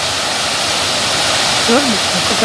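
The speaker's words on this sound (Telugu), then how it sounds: "కోమటి చెరువుకున్న మరో మత్తడి కూడా ఎలా దుంకుతుందో" Water spilling over a second weir of Komati pond, a steady broadband rush close by, with a voice talking over the flow toward the end.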